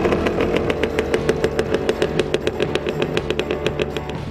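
A rebuilt KTM 200 motorcycle engine runs steadily nearby, its rapid, even two-stroke pulses holding at a warm, loaded idle with no talking.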